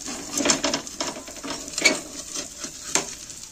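An onion thalipeeth made from bhajani flour roasts in oil on a pan, giving a soft steady sizzle broken by close scraping and clinking bursts from a spatula, with no talking.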